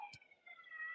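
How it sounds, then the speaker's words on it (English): An ambulance siren wails outside, faint and distant, a thin steady rising and falling tone with a short click near the start. "wait, it's not a police car, it's an ambulance."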